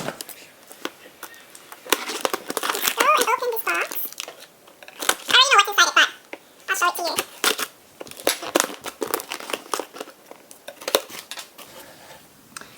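A DIY brown sugar bubble tea kit is unpacked close up, with crinkling packaging, rustling and light clattering of items, while a person talks throughout.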